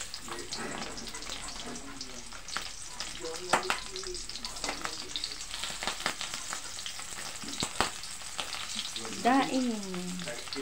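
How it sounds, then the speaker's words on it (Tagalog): Dried fish (tuyo) fries in a pan for a breakfast meal, giving a steady crackling sizzle with occasional stirring clatter and a brief voice in the background. "Lagyan na natin ng tuyo, tuyo,"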